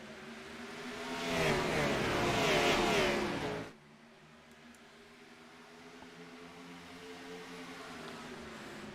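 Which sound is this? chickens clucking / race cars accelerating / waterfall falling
race cars accelerating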